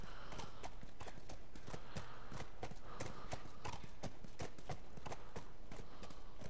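Horse hooves clip-clopping in The Last of Us video game, a steady close walking rhythm of hoof strikes on hard ground alone without talk.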